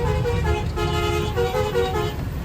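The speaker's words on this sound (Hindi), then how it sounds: "हॉर्न की एक झलक आपको बता देते" A heavy truck loaded with clay sounds its horn in a short, tuneful sequence of toots that rise and fall in pitch, over a low engine rumble.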